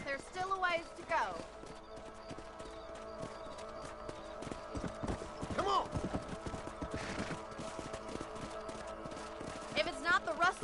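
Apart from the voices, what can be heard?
horse hooves while riding in Red Dead Redemption video game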